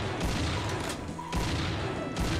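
Rapid shotgun blasts from a Doom-style first-person shooter, loud and close, bursting repeatedly in quick succession over a dense booming game backdrop, with no talking.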